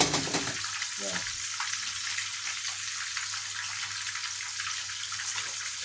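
Covered pot of water brought to a boil while cooking, giving a steady, close bubbling hiss that runs evenly throughout.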